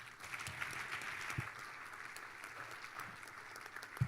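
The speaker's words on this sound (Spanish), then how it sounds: "Un aplauso para ellos." A conference audience gives a sustained round of applause for its speakers, heard from within the room at moderate distance as a steady spread of many hands clapping.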